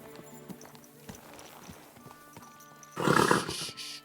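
Horse hooves clip-clop steadily in Kingdom Come: Deliverance 2, then a loud horse whinny bursts in near the end, close and clear.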